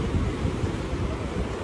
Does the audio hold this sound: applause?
no